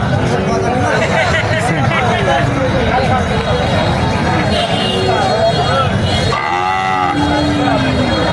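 Sahiwal cattle at a busy cattle market in Comilla low and moo loudly and close, several calls overlapping a constant hubbub of people talking.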